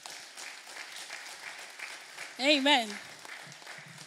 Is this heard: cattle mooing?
no